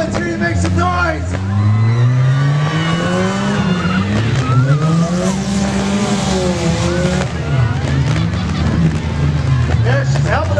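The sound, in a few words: demolition derby cars racing and crashing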